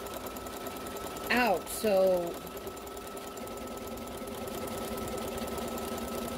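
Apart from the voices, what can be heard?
sewing machine stitching fabric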